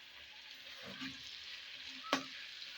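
Onions frying in oil for vegetable rice give a soft, steady sizzle at low volume, with a brief stirring shuffle and one sharp clink of a utensil near the end.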